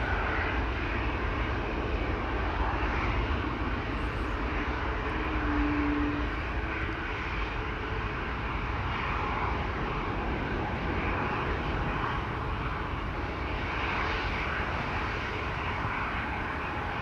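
At Schiphol, a KLM Boeing 737-800 departing for Berlin gives off a sustained, even jet engine roar that holds a steady level across the whole stretch, with no one talking.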